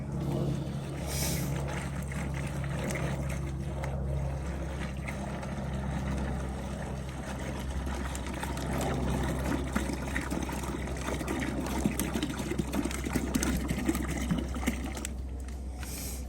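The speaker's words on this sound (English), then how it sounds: "And we are going to add 1 gallon of water." Water pours steadily into a container with a continuous splashing gurgle over a low hum, no talk.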